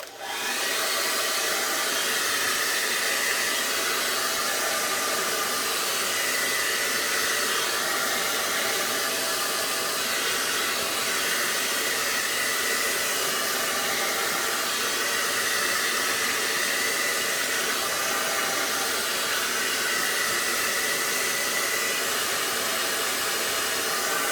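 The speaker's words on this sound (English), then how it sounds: "my hair dryer here, so excuse me while I make some noise" A hair dryer blows continuously, a loud steady roaring whoosh with a faint whine that holds for the whole stretch.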